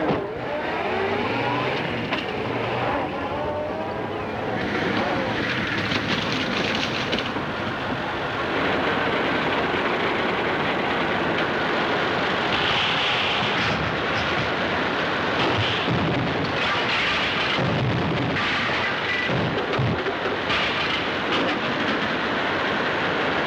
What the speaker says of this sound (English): That tractor of yours will come out of the south road if it don't sink.